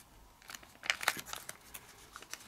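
Paper being creased and folded into an origami jumping jack-o-lantern, giving soft crinkling and sharp crackling bursts at close range, busiest in the middle, with no talking.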